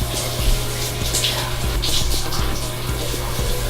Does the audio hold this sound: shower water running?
yes